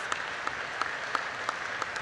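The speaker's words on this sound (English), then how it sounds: "So another round of applause for you guys." At a 2022 letter carriers' convention, an audience claps for the letter carriers, heard as a few sharp, evenly spaced claps over a steady hum of room noise.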